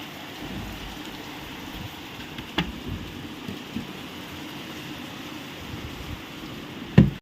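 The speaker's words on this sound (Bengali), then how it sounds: "দেখো একদম ঝমঝমিয়ে বৃষ্টি শুরু হয়ে গেল।" Heavy rain pours down in a steady, moderate rush, with a couple of brief sharp knocks near the start and end.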